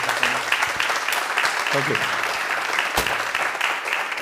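An audience at an awards ceremony breaks into sustained applause, with a brief thank-you spoken over the clapping.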